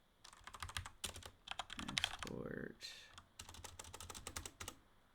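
Keys clatter steadily on a blue mechanical keyboard in bursts of rapid clicks with brief pauses, close and fairly loud, while someone talks over part of the typing.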